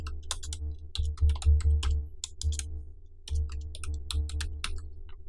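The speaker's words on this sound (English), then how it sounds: "And I'm going to type my text." Text typed on a computer keyboard in two bursts of quick, crisp key clicks, close and clear, with a brief pause between them and no talking.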